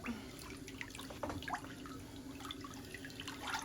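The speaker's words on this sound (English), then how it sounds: "let's give that foot one more dunk. Rinse it off" A foot is dunked and rinsed in a basin of water during a foot-care session, making faint sloshing, splashing and dripping close by.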